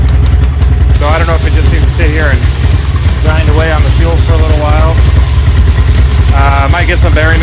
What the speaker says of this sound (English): Let it sit here and idle for a little while longer